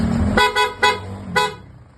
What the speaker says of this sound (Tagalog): Tapos busina.